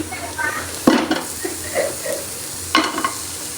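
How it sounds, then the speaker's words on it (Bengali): Beef pieces frying in a pan, added one by one, with soft sizzling under a few louder clattering stirs and pan knocks, while a voice talks throughout. "এখান থেকে একটা করে ছুটিয়ে ছুটিয়ে মাংসগুলো ভেজে নিব"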